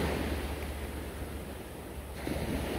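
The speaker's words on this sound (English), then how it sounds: "Waves are coming in about 1 to 2 feet maybe." Small ocean waves of about one to two feet wash in at Mokapu Beach on Maui, a continuous broad surf rush with a light swell in loudness near the end and no voices.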